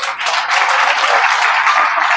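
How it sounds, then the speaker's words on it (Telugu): Audience at a sales training meeting claps in a loud, steady burst of applause that lasts about two seconds. "సార్ చప్పట్లు కొట్టండి."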